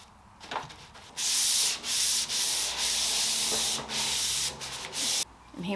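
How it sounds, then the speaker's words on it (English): Painted wooden furniture is sanded between coats in close, loud scratchy strokes, each burst of rubbing broken by short pauses where the sander lifts off the surface. "sanding in between."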